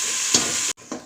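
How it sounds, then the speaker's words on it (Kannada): Ground masala paste sizzling and frying in hot oil for village-style chicken sambar, a steady loud hiss with a brief stir clatter, then a short break before the sizzle resumes. "ಚೆನ್ನಾಗಿ ಎಣ್ಣೆಲಿ ಫ್ರೈ ಮಾಡಿ, ಹಸಿ ವಾಸನೆ ಎಲ್ಲ ಹೋಗೋವರೆಗೂ ಫ್ರೈ ಮಾಡ್ತಾಯಿರಿ."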